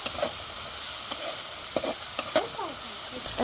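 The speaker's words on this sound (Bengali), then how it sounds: "এখন আমি এটাকে নেড়ে চেড়ে কিছুক্ষণ ভেজে নিব।" Chopped onion and green chili frying in hot oil, a constant hissing sizzle with occasional soft scrapes of a spatula stirring the pan.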